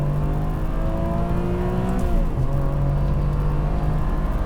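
A 2003 Ferrari 575M accelerates at full throttle in second gear, its engine a loud, continuous roar whose pitch climbs steadily, then drops at a brief shift before rising again, heard close with no talking.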